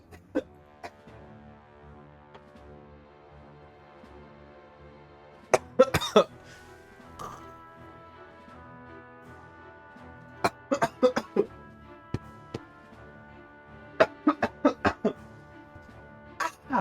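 Sharp bursts of coughing from a throat sore after days of coughing come in clusters, several harsh coughs at a time separated by quieter stretches with a faint musical background.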